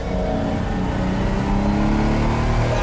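A Lamborghini Miura's engine runs steadily close by, a dense, continuous mechanical roar with a slight swell partway through and no voices over it.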